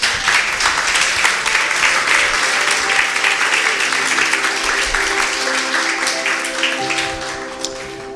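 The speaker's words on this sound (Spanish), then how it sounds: "Aplauda al Señor." A church congregation claps in praise during a sermon, with loud, sustained applause and sustained musical tones beneath it, easing off near the end.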